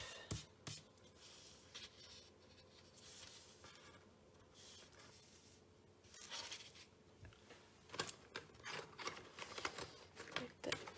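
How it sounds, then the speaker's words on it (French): Double-sided adhesive tape pulled from a tape roller at a scrapbooking and card-making craft table, giving quiet scratchy rolling and tapping sounds in several short bursts, close and faint, with louder clicks toward the end. "je vais prendre le rouleau double face et je vais mettre de l'adhésif"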